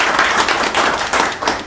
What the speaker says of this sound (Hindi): सो इनके लिए खास ताली बजा दो।